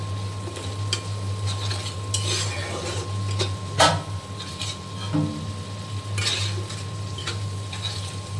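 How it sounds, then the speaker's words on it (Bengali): Spices sauté in oil in a pan on a home stove for a Bengali dish, giving a soft continuous sizzle. A spoon stirs and scrapes against the metal, adding irregular close clinks and scrapes, with a faint steady hum behind. "আমার মশলা খুব ভালো করে কষিয়ে নেওয়া হয়ে গিয়েছে, তেল ছেড়ে দিয়েছে।"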